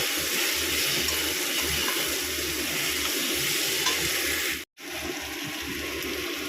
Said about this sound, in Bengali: পেঁয়াজ আমার হালকা ভাজা হয়ে গেছে